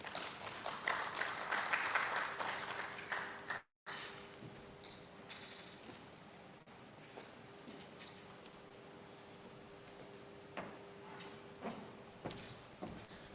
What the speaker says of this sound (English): Another round of applause for Mr. Lawrence Shola.